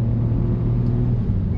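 Ford Puma ST facelift engine dropping two gears under load, heard as a steady, close, low rumbling drone with no voices.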